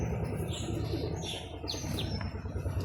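A young male Maxi racing pigeon from a Rajbari club, held in the hand, gives faint chirps and soft coos over a dense, steady background.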